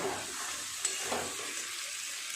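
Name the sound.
water poured into sizzling chicken and spice masala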